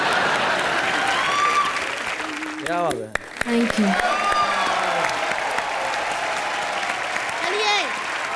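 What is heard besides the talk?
audience applause on a TV comedy show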